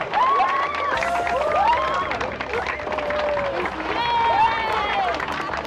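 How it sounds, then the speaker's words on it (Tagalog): A studio audience at an awards segment breaks into sustained applause mixed with cheers and raised voices after an award is announced, a dense crowd roar that holds steady for several seconds. "Oh, palakpak naman kayo."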